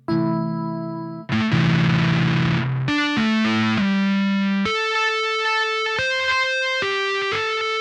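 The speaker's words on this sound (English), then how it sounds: "here's like just an electric piano sound, right? Like cheesy '80s piano sound." A cheesy '80s-style electric piano through fuzz distortion plays a run of sustained chords and single notes, gritty and buzzing, with brief pauses between phrases and no voices.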